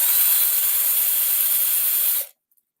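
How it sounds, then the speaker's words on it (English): Power drill boring out a rivet, a loud continuous high whine that runs for about two seconds and then stops abruptly. "I just need to drill it."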